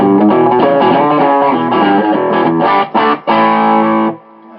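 A heavily distorted electric guitar through a Boss GX-100 plays sustained, buzzing chords with a few short choppy strums, then rings out and fades.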